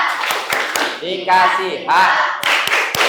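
Rhythmic hand clapping from a classroom group during an ice-breaker, crisp repeated claps in bursts, with a voice speaking over part of it.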